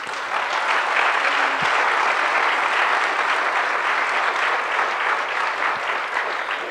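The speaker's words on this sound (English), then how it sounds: "let's give her a big round of applause" Audience applause for an absent woman named Heidi at an Ohioans Against Common Core talk, a dense, steady wash of many hands clapping together, sustained at an even level throughout without any voices over it.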